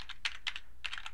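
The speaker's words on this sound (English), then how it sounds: "so I will continue by typing" Fingers type on a computer keyboard, close and crisp, a quick irregular run of key clicks in small bursts with brief pauses between them.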